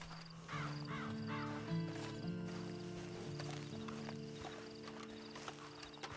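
Horse hooves clip-clop steadily in the video game Red Dead Redemption 2, a rhythmic trot of even hoofbeats set against sustained low musical tones and faint bird calls.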